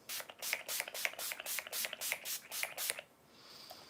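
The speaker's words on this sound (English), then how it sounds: "So I'm going to use the Maven Beauty Rose Water Setting Spray." Rose water setting spray from a Maven Beauty pump bottle, misted in about seven quick, evenly spaced hissing bursts at close range, then stopping.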